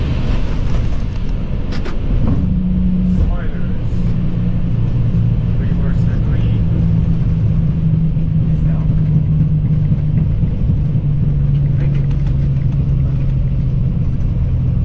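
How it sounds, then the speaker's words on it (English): An Etihad Airways airliner touches down at Phnom Penh, Cambodia, heard from the cockpit as a loud steady roar and runway rumble with a low engine drone and voices speaking over it. "Etihad touchdown in Phnom Penh, Cambodia"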